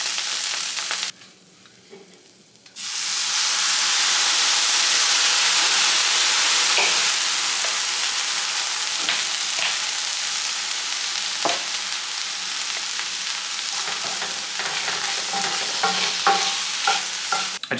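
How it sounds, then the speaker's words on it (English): Crumbled tempeh browning in chili oil gives a loud, steady sizzle that starts after a brief quiet stretch, with scattered scraping stirs and pops over the hiss. "broke it up, and then browned it up a little bit in some chili oil"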